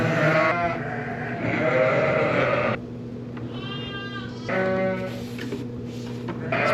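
Ewes and lambs in winter shelter bleat loudly, several voices overlapping and calling in repeated wavering cries close by over a constant low hum.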